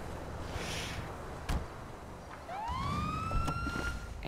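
The police siren of a Gauntlet Interceptor in GTA Online starts partway through with a rising wail, after a quiet stretch and a couple of clicks.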